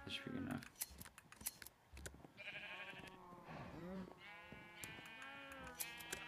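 Sheep in the video game Minecraft bleat repeatedly in short wavering calls, mixed with sharp snipping clicks of shearing, all clear and close with no talking over them.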